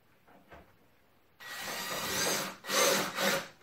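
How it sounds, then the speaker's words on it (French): A cordless screwdriver drives screws into a wooden table, with soft handling noises followed by two close, loud bursts of whirring and grinding into the wood. "Je vais visser en direct dans la table."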